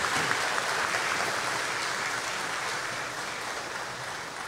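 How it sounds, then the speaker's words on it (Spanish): A congregation at a novena-closing Mass for Franciscan Father Flavio Mucci breaks into sustained, full applause that stays steady and fades slightly toward the end. "un aplauso para el padre Flavio Mucci"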